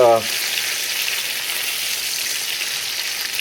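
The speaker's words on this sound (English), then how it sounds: "Gonna cook that up with some bacon, add a little bit of smokiness." Deer tenderloin marinated in Italian dressing fries with bacon in a pan, giving a steady, close sizzling hiss after a brief voice at the very start.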